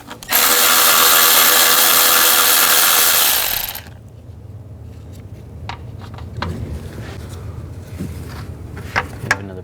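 A power tool fitted with a 10mm socket runs loud and steady for about three and a half seconds, removing engine bolts on a 2010-16 Buick LaCrosse during an intake gasket replacement, followed by quieter clinks and handling noises.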